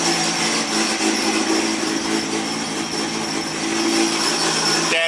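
A Nissan RB25DET engine idling rough at around 1800 RPM during a timing build, a steady loud mechanical drone with a high whine on top, unbroken and close throughout.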